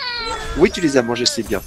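A British breed pet cat meows loudly and close in a short burst of warbling calls, overlapping with someone speaking French to it.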